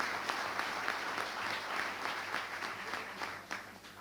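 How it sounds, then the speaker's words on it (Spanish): Steady applause from a crowd at the opening session of a national bank workers' union congress, fairly distant and even, lasting the full stretch with no voices over it. "así que para ellos un fuerte aplauso"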